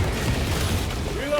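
A frag grenade explodes in the Warhammer 40K Space Marine 2 video game with a loud, dense boom and rumbling debris amid combat noise, ending with a rising whine.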